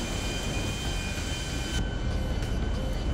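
Airplane engine in the GTA 5 video game: a loud, steady, broadband roar that holds at constant intensity throughout, with a faint high whine on top.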